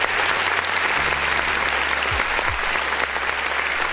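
A crowd applauds steadily for several seconds, a dense, even wash of clapping heard close up with a low hum beneath.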